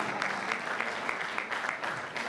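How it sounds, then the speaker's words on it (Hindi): An audience at an Urdu poetry mushaira in Dunyapur claps in a thick, continuous round, with some individual claps standing out sharply, and no talking. "आप अपने लिए तालियां बजाएं"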